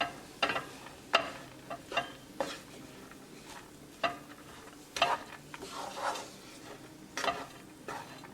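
A spoon stirs urad dal with fresh cilantro in a pot, producing intermittent soft scraping strokes and light clinks over a faint simmering hiss, quiet and close.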